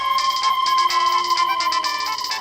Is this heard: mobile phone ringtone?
yes